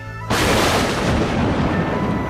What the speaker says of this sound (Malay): Senapang meletup.